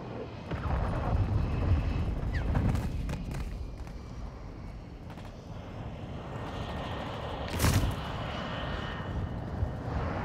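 Cruise missile launch in a Call of Duty game, a low rumbling roar that swells and lingers with a sharp blast partway through, set against background battlefield noise.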